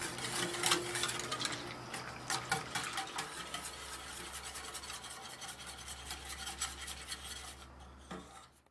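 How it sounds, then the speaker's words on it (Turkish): Repeated scraping and rubbing of a spoon stirring semolina and cocoa in a pot on the stove, steady rhythmic strokes close by with light metallic clinks. "Şimdi karıştırmayı bırakmadan kaynama noktasına gelip kıvam alıncaya kadar pişireceğim."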